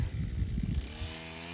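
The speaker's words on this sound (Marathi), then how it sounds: "आता ग्रास कटर लावलेला आहे आणि साफसफाई सुरू आहे" A motorized grass cutter clearing grass on a cricket ground runs with a buzzing engine drone that shifts to a steadier, higher whine partway through.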